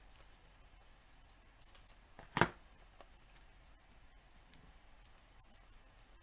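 Scissors make a single crisp snip through card stock, a short bright cut standing alone in a quiet room with a few faint ticks afterward.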